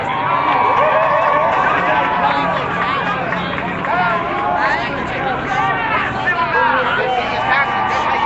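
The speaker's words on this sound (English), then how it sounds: "this is the crowd." Dense crowd noise at a nighttime Ferguson protest, a steady wash of many overlapping voices and shouts with no pause, close and loud throughout.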